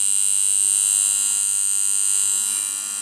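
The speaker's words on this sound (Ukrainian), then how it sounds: "І воно зажужжало, воно вже працює." Homemade inverter built on a K176IE12 chip and IRL2505 transistors, giving off a steady high electrical whine with a constant faint buzz underneath, close by and unchanging throughout.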